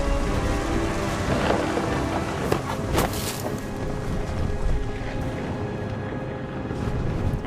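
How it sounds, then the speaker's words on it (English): A thunderstorm in the video game What Remains of Edith Finch brings a steady roar of wind and rain, with a few dull rumbling swells of thunder rising out of the constant wash, no voices present. "The thunder sounded much too close and full of angry power"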